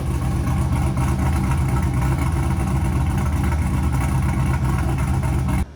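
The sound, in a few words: car exhaust with cutout closed, supercharger blower whine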